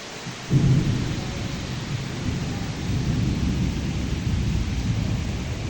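A low rumble of thunder rolls in over steady pouring monsoon rain, the storm noise continuous and heavy throughout.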